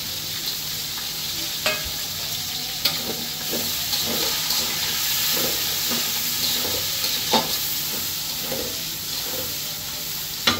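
Onions fry for beresta in a pan of hot oil, giving a loud, steady sizzle throughout, with regular scraping stirs and no voices.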